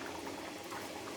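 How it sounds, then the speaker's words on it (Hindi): Water boiling hard in a pot on a kitchen stove, ready for rice for keema matar pulao, a steady close bubbling roar with no talk. "जो पानी उबल गया है, इसमें आप ये चावल डाल दें"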